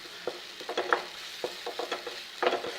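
Masala for an eggplant kulambu fries in oil in a pan, brisk stirring scrapes over a bright, crackling sizzle, close and continuous with uneven spatula strokes.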